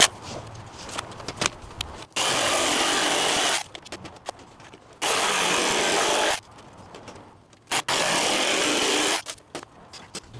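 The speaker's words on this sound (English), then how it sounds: "We're going to cut down that piece of plywood." A power saw cuts through plywood in three loud, roaring bursts of about a second and a half each, with quieter pauses of shuffling and handling between them; no one speaks.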